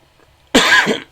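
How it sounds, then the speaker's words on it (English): A single harsh cough from a congested man bursts out after a moment of near silence, close and loud, lasting about half a second. "Sorry about the coughing, guys."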